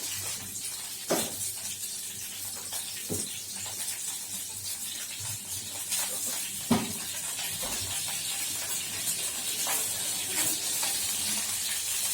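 Mustard seeds sizzling in about two spoons of hot oil in a pan, a steady close hiss with scattered sharp pops and crackles throughout.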